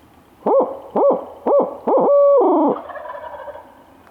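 A turkey hunter imitates an owl: a quick run of loud, rhythmic hoots ending in a drawn-out, wavering call, close and clear against a quiet outdoor background.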